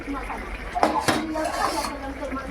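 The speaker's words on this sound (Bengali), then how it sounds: "এবার একটু ঢাকা দিয়ে দেবো" A lid goes onto a pot of cooking fish curry with cauliflower and new potatoes, making a couple of brief metallic clinks and a scrape around the middle, while someone talks over it.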